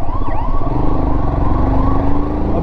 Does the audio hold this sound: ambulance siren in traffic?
yes